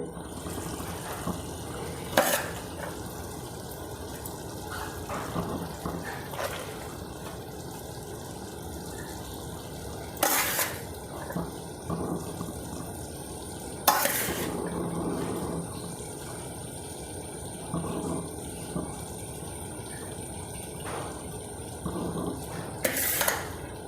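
Cooked rice goes into a chicken mandi pot with soft scooping and rustling, broken by a few sharp clinks of a utensil on the pot and no talking.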